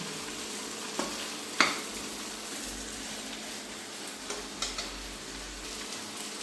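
Ginger and garlic frying in a pan while cooking a thin village chicken curry, a steady soft sizzle throughout with a few light clicks and taps of utensils against the pan.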